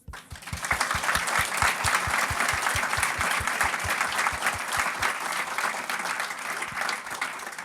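An audience at a behaviour change centre launch event claps to thank the panellists, with rhythmic, loud applause for about five seconds that thins out to a few scattered claps.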